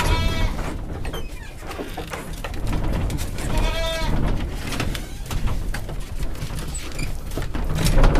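A breeding buck goat, in poor condition and recovering, bleats loudly and close by twice, spaced a few seconds apart, over continuous barn and farm background noise.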